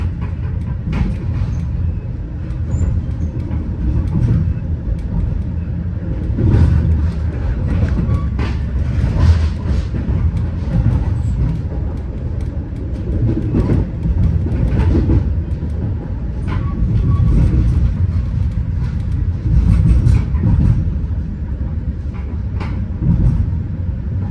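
A Metra commuter train rumbles steadily along the rails of the Elgin subdivision with rhythmic clatter and rolling noise, loud and close, with no talking.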